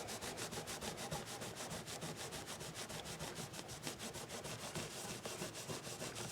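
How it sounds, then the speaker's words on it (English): Rapid rhythmic rubbing as buffing compound is wiped off the body of a Washburn V Class WV16 electric guitar, a steady brisk back-and-forth scrubbing, close and fairly faint, with no talk. "now I'm just going to try to clean the buffing compound that was all over it"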